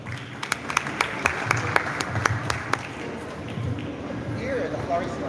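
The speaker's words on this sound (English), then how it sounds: "Give him a big round of applause then." Audience applause at a modeling event in the Philippines, a short burst of sparse, fairly close handclaps that soon fades into a room murmur with some talk.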